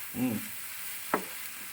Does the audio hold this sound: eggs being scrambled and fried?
yes